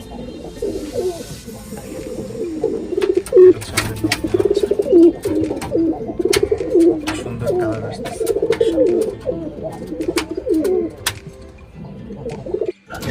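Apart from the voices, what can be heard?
hungry pigeons at feeding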